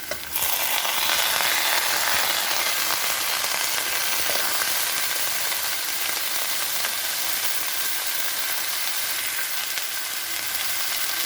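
Bottle gourd peel added to frying potato and onion in oil over a high flame, producing a loud, steady sizzle that hisses continuously with faint stirring scrapes.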